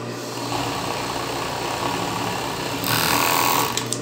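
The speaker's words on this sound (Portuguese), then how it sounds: "vou passar outra costura, né? Reforçar." A sewing machine stitches a second reinforcing seam joining a waistband at the side of double-strap panties, a steady close mechanical whir running throughout and growing louder near the end, with no talking.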